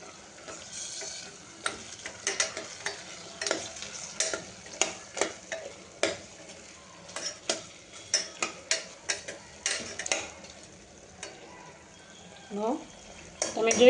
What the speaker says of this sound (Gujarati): હવે આને બધું આપણે હલાવી લઈશું.